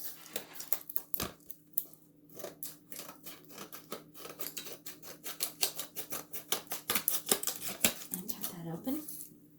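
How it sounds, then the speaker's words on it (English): Scissors snip and cut repeatedly during late-night crafting, a close series of sharp, crisp clicks and slicing strokes that speed up and grow denser toward the end, with no talking. "We're gonna get our handy dandy scissors."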